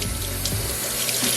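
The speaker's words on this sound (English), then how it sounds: "I'm just kind of tossing them around so that the water temperature stays a little bit more even" Frozen shellfish being tossed by hand in a kitchen sink of water to thaw, a steady close sloshing and splashing with running-water hiss throughout.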